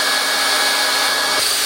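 A hot air plastic welding gun blows continuously at close range, a steady, loud hiss like a hair dryer with no pauses.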